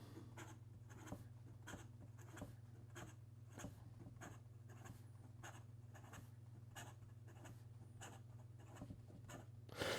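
Rapid scratchy strokes of an Esterbrook JR fountain pen writing fast on paper, a quick regular rhythm of faint scratches heard close against a low steady hum.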